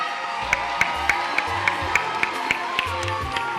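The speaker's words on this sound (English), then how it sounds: "Can you cheer your children?" An audience at a Year 6 school graduation ceremony cheers and shouts for the graduating children, a dense crowd roar with rhythmic clapping or stamping beats throughout.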